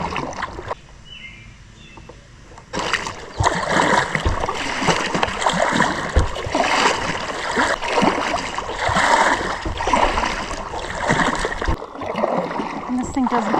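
Paddle strokes splash and gurgle as an inflatable kayak is pushed slowly up a creek, close and fairly loud in an uneven repeating rhythm after a quieter start, with a voice speaking.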